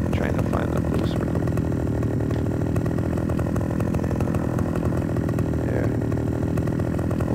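Chainsaw cutting a tree in the Farming Simulator 2015 game: a steady, loud, buzzing engine drone that holds without pause throughout.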